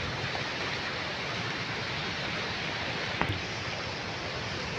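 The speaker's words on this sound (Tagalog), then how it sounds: "Lakas ng hangin, no? Habagat kasi." Strong monsoon wind roaring outdoors as a dense, steady, broadband rush, with a brief sharp knock near the end.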